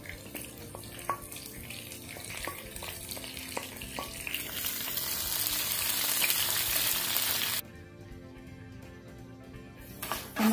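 Green chillies and curry leaves frying in hot oil with ginger and garlic for a cabbage pickle, a steady close sizzle with light stirring clinks, swelling louder before cutting to a quieter, softer hiss.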